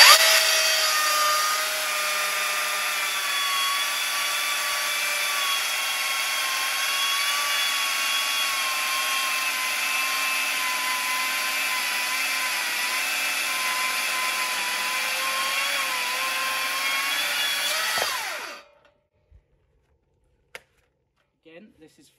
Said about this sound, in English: this is Fraxinus Excelsior we're cutting here, a nice bit of ash